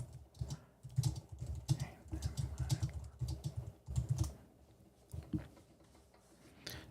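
Fingers type on a computer keyboard in quick, uneven bursts of close keystrokes, with short pauses between flurries and no talking.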